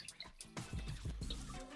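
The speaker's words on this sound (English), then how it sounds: "Next, you're gonna wanna add 1 liter of water." Water for a yeast starter, with dry malt extract, is poured through a funnel: a close, steady splashing gush begins partway in and runs to the end.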